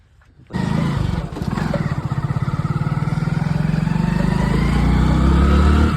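A motorcycle engine bursts to life nearby and keeps running with a loud, steady throbbing pulse that builds slightly as the bike gets underway.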